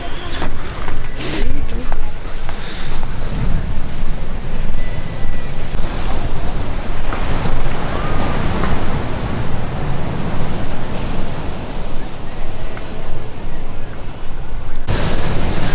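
Ocean surf rolls onto a beach at San Pancho, Mexico as a steady, loud wash of noise, roughened by wind buffeting the microphone throughout.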